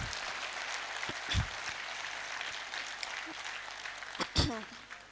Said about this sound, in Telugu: ఇది యాక్సెప్ట్ చేస్తే ఒకసారి గట్టిగా చప్పట్లు కొట్టాలి